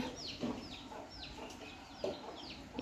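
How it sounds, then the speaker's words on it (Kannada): Chickens cluck faintly in the background, giving several short, scattered calls over quiet ambient noise on a home farm, with no talking. "ಈ ಕೋಳಿಗಳಿಗೆ ಏನಾದರೂ ಮೇವು ಹಾಕಿದ್ರು ನೋಡಿ"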